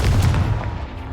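A Confringo blasting spell fired in Hogwarts Legacy during a Merlin trial, heard as a loud, booming burst with a heavy low thump that fades out over about a second, with no talking.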